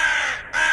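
A single crow caws loudly and close, two harsh calls broken by a brief pause, with no other sound around it.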